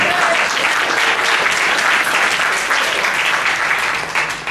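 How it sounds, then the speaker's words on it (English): An audience claps for Amber, the event decorator, in a dense, loud burst of applause that holds steady for several seconds and then starts to taper off at the end. "How about a round of applause for her?"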